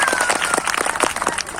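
A crowd at a village gathering claps loudly and densely throughout, with a thin steady whistle-like tone running faintly underneath.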